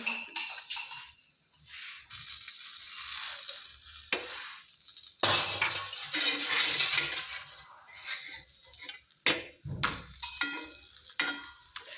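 Food roasts in a hot pan as a flat spatula scrapes and stirs it, steady sizzling broken by repeated scraping strokes, with no talking.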